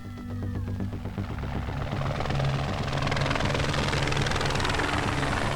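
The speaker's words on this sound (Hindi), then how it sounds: "हेलीकॉप्टर कहाँ पे?" Helicopter rotor and engine roar close by with a steady chopping thump that swells in the first second and then holds loud and continuous, set in a tense hostage scene aboard a train.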